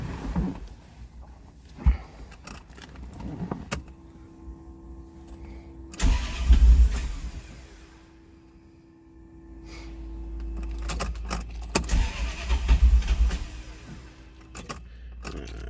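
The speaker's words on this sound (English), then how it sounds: "Let's go ahead and fire this up." A 1976 Ferrari 308 GTB Vetroresina with a gated 5-speed, cold and not yet run that day, cranks with a whirring starter, catches briefly, cranks again and fires into a rough, revving idle, close and loud.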